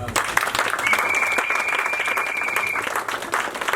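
A church congregation applauds together in a dense, steady burst of clapping that runs the whole time, with a thin sustained tone ringing above it partway through.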